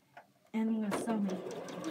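A sewing machine stitches a small four-inch potato chip quilt block, starting after a brief pause and running steadily at a loud, even hum; a person talks over it indoors.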